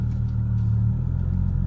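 Ford Mustang 2015 with a 3.7L V6 pulling away, a steady low engine rumble that swells gently and holds, heard from inside the cabin with no talking.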